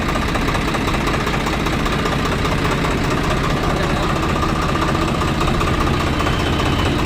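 A tractor engine, under repair for vibration on clutch release, runs at a steady idle with a constant knocking, juddering throb, loud and close, and no speech.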